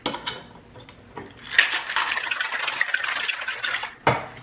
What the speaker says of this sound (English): Time to put the lid on, give it a shake.